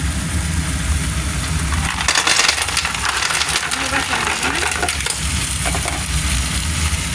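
Clams being stir-fried in a pan, with a steady, dense sizzle and scraping of the spatula throughout, mixed with some clatter as more ingredients go in.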